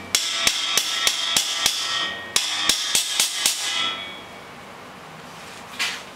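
Sharp hammer taps drive fittings into place during an elevator installation, two loud rhythmic runs of ringing metallic strikes with a pause between, then a brief faint clank near the end; nobody speaks.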